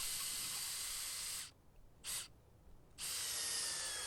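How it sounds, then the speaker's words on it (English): A power drill with a 3/8 inch bit re-drills a hole in swing set wood, whirring steadily with a high hiss, cutting out twice briefly and then starting up again. "Re-drill it now with a 3/8 inch drill bit."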